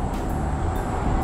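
A tram runs through Aksaray in Istanbul with a loud, continuous rumble and rolling noise, close by and unbroken for just over a second, with no voices.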